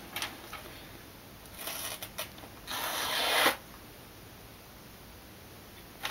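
A knife blade is drawn over a coarse 320 grit diamond stone in quiet, separate gritty strokes, a few short rasps followed by one longer scrape, then silence.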